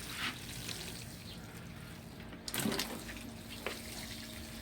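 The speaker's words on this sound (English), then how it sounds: "Hold on, I'm watering." Plants are watered inside a greenhouse. A faint, steady hiss of spraying water runs throughout with a few brief splashy bursts, distant and low in level, with no talking.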